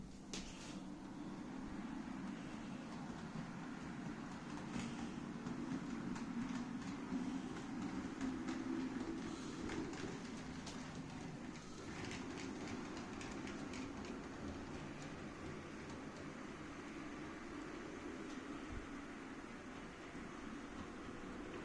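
A model locomotive runs around a garden railway track with its coaches trailing, a steady continuous rumble and faint rhythmic clatter of wheels holding at an even level throughout, with no talking.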